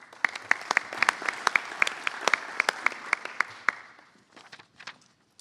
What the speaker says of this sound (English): Let's give a round of applause for Martha.